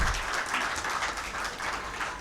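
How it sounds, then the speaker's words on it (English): Audience at a school trust's silver jubilee celebration applauding children, a steady, dense wash of clapping that holds at an even level across the whole stretch with no voices over it. "I think these children really deserve a round of applause"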